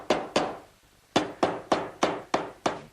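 Hammer blows drive a piece down on a wooden medicine cabinet with a mirror: two quick sharp strikes, a short pause, then six evenly spaced knocks, close and loud with no talking.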